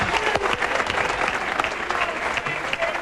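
A bowling tournament crowd at a televised pro match applauds and cheers loudly and continuously, a dense wall of clapping and crowd noise filling the whole span with a voice faintly underneath.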